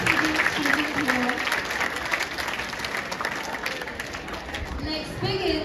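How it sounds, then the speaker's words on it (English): Sustained applause from a large audience at a student union oath and awards ceremony fills the whole stretch, dense steady clapping with a few voices faintly mixed in. "Please give a huge round of applause for all the dignitaries and all the students here."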